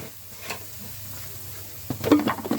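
After a quiet, humming stretch, spices hit hot oil with a sudden sharp sizzle that crackles loudly through the final second.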